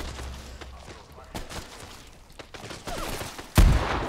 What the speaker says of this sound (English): Is someone shooting us?